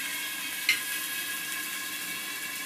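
Chickpeas sizzle steadily in a covered pan, a soft, even hiss of frying with one brief clink near the start.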